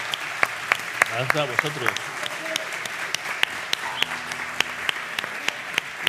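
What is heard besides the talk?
audience applause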